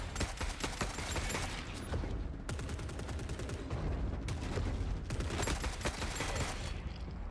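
Heavy .50 caliber sniper rifle fire in The Forever Winter, with loud repeated shots thundering among sustained battlefield gunfire, the reports running continuously and densely for the whole stretch.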